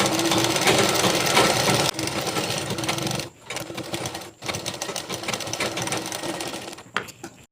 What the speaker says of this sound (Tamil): இந்த மாதிரி வச்சு இப்போ நான் தைச்சிட்டு வரேன்.